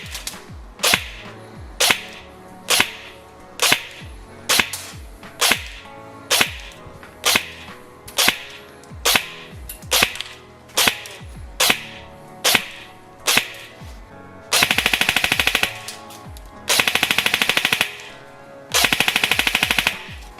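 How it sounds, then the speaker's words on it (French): Double Eagle DEX556 TAN airsoft electric gun fired in a chrono and shooting test, first a long run of sharp single shots at an even pace, then three rapid full-auto bursts, loud and close. "on va aller au test chronie et au test de tir"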